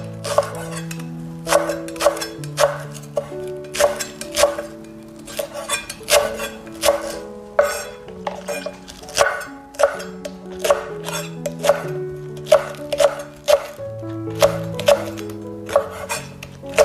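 Leek being chopped with a knife on a board while cooking braised tofu, a steady run of sharp, close knocks in quick irregular rhythm, with faint tonal clinks ringing between strokes.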